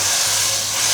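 Chopped kimchi hitting a hot pot greased with rendered pork shoulder fat, giving a steady, loud, broadband sizzle and hiss that holds evenly throughout with no talking over it.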